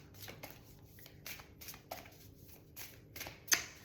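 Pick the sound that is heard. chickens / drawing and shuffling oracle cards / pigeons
drawing and shuffling oracle cards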